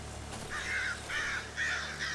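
Crows in the horror survival game Darkwood give four harsh, evenly spaced caws, loud and close against a faint low ambient drone.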